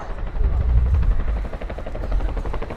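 A Royal Air Force Chinook twin-rotor helicopter flies a display at an air show, its deep rotor thump loud and sustained, with a commentator talking over it.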